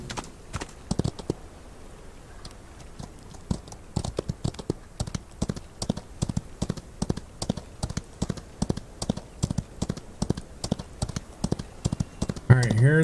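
Horse hooves clip-clop at a steady riding pace in the Old West game Outlaws of the Old West, close, crisp repeated footfalls continuing throughout, with a short burst of other game sound at the very end.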